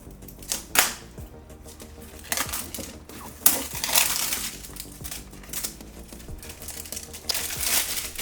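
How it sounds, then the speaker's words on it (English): Cardboard packaging of a ThieAudio Legacy 3 earphone box ripped open by hand, close and fairly loud, with irregular bursts of crinkling, tearing and crushing and a few sharp thumps as the box is pulled apart. "let's just rip this sucker apart and see what we got."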